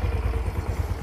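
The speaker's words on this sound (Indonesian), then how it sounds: "Ini dengar suara mesinnya, coba." Close, steady idle of a Yamaha Mio M3 125 scooter engine, a low rhythmic putter with light mechanical clatter.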